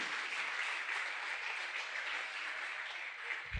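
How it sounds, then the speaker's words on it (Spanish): A church congregation applauds together in a steady, dense wash of clapping that holds evenly throughout, with no voices standing out. "Dele ese aplauso al Señor si se lo va a dar"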